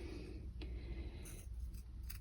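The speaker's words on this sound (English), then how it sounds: "I could do it with the scissors as well" Quiet snips and scrapes of scissors cutting through fabric, several short cuts spread unevenly over a soft background hum.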